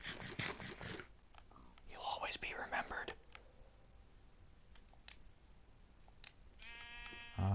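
A Minecraft sheep gives a short bleat near the end, after stretches of soft whispered talk and faint game noises.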